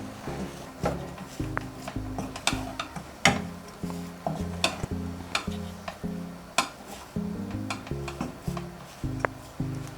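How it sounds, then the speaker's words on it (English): Ugali flour being stirred and turned in a sufuria pot, a rhythmic series of scraping, knocking strokes with a wooden utensil against the metal, steady and close, with sharp clacks between the repeated thick scrapes. "hold your sufuria and then you keep turning it like this"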